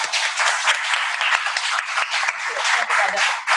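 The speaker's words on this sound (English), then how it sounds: "Let's give another round of applause to Brother Vincent." Steady, dense applause from a crowd, many hands clapping continuously at a lively, even level.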